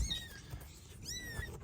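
Kittens mew in a home workshop, a few thin, high rising cries close by, with soft rustling between them and no talk.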